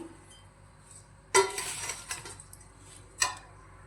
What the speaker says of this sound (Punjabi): ਇਸ ਤਰੀਕੇ ਨਾਲ ਮਿਕਸ ਕਰ ਲਾਂਗੇ ਜੀ ਚਮਚ ਨਾਲ ਵੱਡੇ ਚਮਚ ਨਾਲ